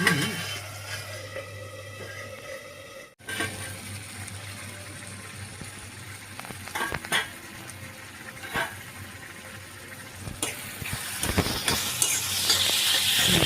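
Tomato curry simmers on low heat under a lid with a faint, steady bubbling sizzle, broken by a few sharp clinks and knocks near the pot, and no voices.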